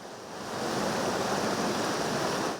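The swollen Órbigo river at Santa Cristina de la Polvorosa rushes past in a dense, steady roar of flowing water that fades in at the start and holds evenly throughout.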